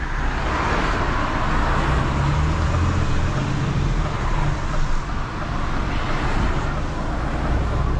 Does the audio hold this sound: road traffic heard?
yes